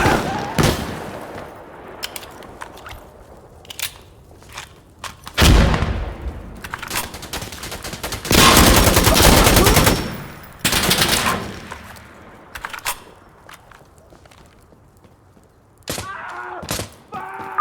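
Bursts of gunfire and heavy booms in the video game Insurgency Sandstorm come in irregular clusters, some loud and close, others sparse, with short quiet gaps and occasional voices between.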